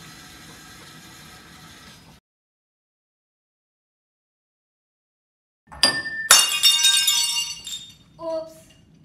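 Glass shatters in a sudden bright crash after a stretch of silence, followed by scattered tinkling shards and a final smaller clink, close and loud.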